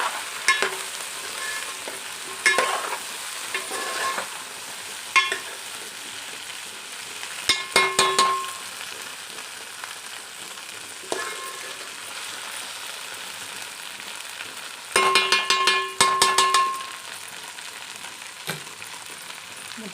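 Okra sizzles in a pan of oil with a soft, steady frying hiss, broken every few seconds by bursts of scraping and clattering as the pieces are stirred.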